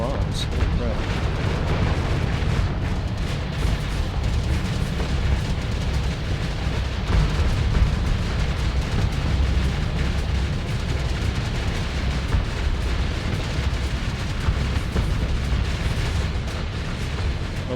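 Constant barrage of bombs exploding in the space combat game Starsector, a dense, loud, rumbling wall of blasts that never lets up, with a voice talking underneath.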